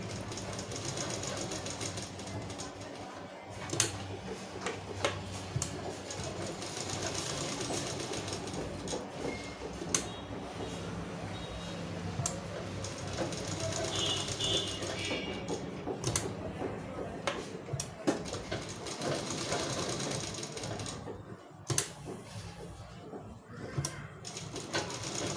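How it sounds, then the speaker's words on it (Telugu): A sewing machine stitches along a Punjabi dress bottom, running with a steady, rapid mechanical chatter and clicking that continues close and moderately quiet throughout. "బాటమ్ కింద పట్టీలో ఇలా కుట్లు కూడా కుట్టుకోవచ్చు."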